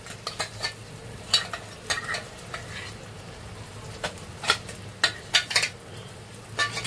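Thick masala paste roasting in oil in a pan on a tawa, with repeated scraping and stirring strokes of a spoon against the metal over a soft steady sizzle, close and moderately loud, no talking.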